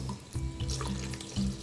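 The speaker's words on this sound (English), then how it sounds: "I've got Mr. Funnel here over my measuring jar, and I'm going to pour this mixture" Diesel and AdBlue mixture, water included, pours through a funnel into a measuring jar, a steady close liquid trickle and splash running continuously with a few louder surges, no talking.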